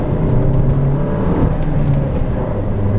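Interior drone of an Opel Mokka X driving on the road: a loud, steady low engine and road rumble with a faint whir, continuous and close, with no speech.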